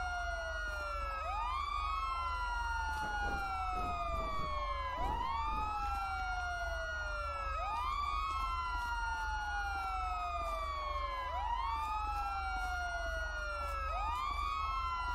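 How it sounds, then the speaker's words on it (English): Several police sirens in the GTA V video game wail without pause in sweeping, overlapping rising and falling cycles over a low engine rumble, with no voices audible. "Somebody turn the fucking sirens off, please, for the love of God."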